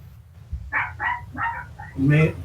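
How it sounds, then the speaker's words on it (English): A dog barks a handful of times in quick succession over a low room hum, the barks fairly close and loud, ending with a stronger, deeper bark. "your dog barking"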